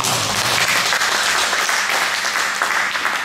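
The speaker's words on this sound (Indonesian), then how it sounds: "Tepuk tangan dulu buat Tuhan." A church congregation claps loudly and continuously, a dense, even wash of many hands applauding with no pause from start to finish.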